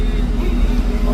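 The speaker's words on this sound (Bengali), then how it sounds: "এই লঞ্চটা তো অনেক স্পিডে চলে" Passenger launch on a river with its engine running at speed, a steady loud low drone and churning rumble throughout, close and continuous with no pauses.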